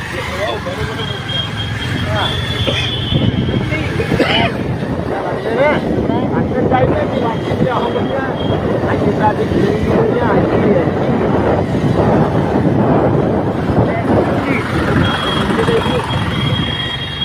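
Congested road traffic at the Hingoli Naka area in Washim, jammed by new road construction, makes a loud, continuous mix of car, truck and bus engines with faint beeps and horns, and voices talking under the rumble.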